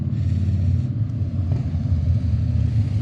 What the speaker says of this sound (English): There's your motorbikes.